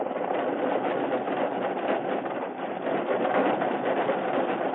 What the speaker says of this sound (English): The Lone Ranger gained slowly on the engine.